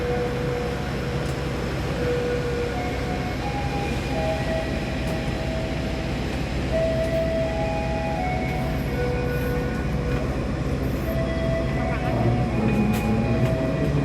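An Indonesian passenger train, the KA 131 Parahyangan to Jakarta, rumbles along steadily with a constant low drone and faint squealing tones, while an announcement-style voice speaks over it.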